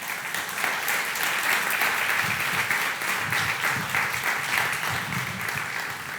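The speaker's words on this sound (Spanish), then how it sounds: "Dele un aplauso al Señor, hermano." Church congregation applauding, a sustained, even roar of many hands clapping at close range, with faint murmuring beneath but no clear speech.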